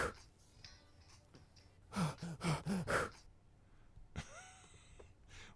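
Rhythmic breathing on a music track: a run of five or six sharp, close gasping breaths in a quick burst, with quieter vocal sounds around it.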